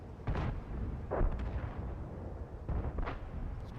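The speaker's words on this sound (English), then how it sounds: "How is a T-62F firing at me while stealth right now?" Tank gun shots from a T-62F in World of Tanks, two heavy booming blasts about two and a half seconds apart, each with a rumbling low tail over a steady background drone.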